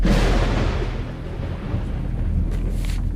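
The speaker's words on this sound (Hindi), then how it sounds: "और बाहर बारिश भी बहुत ज्यादा है।" Heavy rain pours steadily outside with a low rumble of thunder, a dense continuous wash of noise with no voices.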